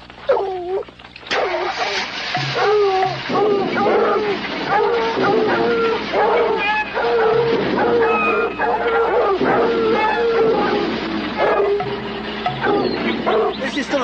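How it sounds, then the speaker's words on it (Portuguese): Several tracking dogs bark and yelp excitedly on a scent trail outdoors, overlapping loud calls repeating throughout while people shout and talk over them. "Nós temos cães."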